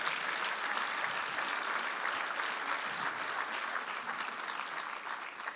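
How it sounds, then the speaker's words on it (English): Steady, sustained applause from a dinner audience at a tribute event fills the room, a dense even wash of many hands clapping at a moderate distance without a break. "So a round of applause to all of our great supporters from across this country."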